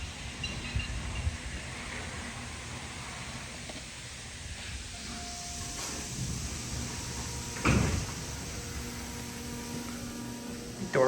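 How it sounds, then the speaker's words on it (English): An Otis elevator's sliding door in a five-floor building at the Marriott Grande Vista runs open and shut, with a brief louder knock or slide near the middle over a steady hum of the car and machinery. "Door was a little messed up there."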